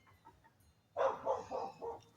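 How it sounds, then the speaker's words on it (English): A distant dog barks four times in a steady series, the calls carrying across open air over faint background sound. "And then now you hear another dog."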